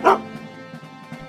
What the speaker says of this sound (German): Ah, Hilfe, der Hund will mich beißen.